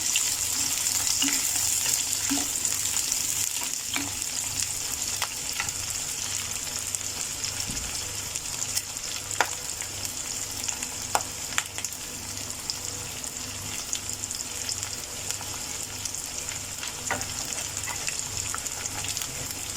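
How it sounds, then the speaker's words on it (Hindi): Onions and cashews sauté in a hot pan, frying for the whole stretch with a steady bright sizzle. Occasional scrapes and taps of stirring sound close by, and no one speaks. "ओनियन और ये काजू ये दोनों ऐड करेंगे इसी में। अब इसे सौते करना है।"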